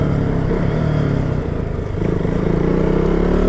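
KTM Duke 200 motorcycle engine warming up at idle, a close, loud, steady low chugging throb with a light mechanical clatter, alone and unbroken.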